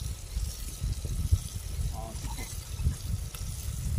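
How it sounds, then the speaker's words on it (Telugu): A little water trickles into a pan of chicken curry with ginger-garlic paste at a camp, a brief soft pour and stir heard under a person's talking. "కొద్ది వాటర్ కూడా పోసుకొని కలుపుకుంటున్నాను"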